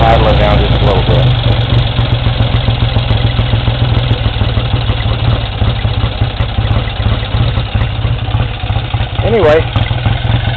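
A 1965 Triumph TR6SR 650 Trophy motorcycle engine idles up close, loud and steady, its throb settling lower with a brief rise near the end and some talk underneath.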